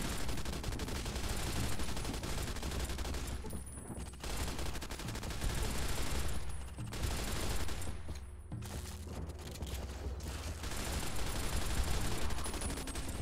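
Sustained automatic gunfire in the video game Fallout: New California, dense and loud with almost no gaps across the stretch, only brief dips in the rapid shooting.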